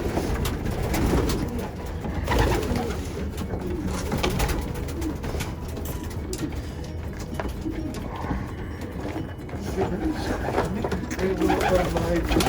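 Racing pigeons coo in a loft, soft throaty calls repeating throughout under a steady murmur of the flock, with people talking intermittently over them.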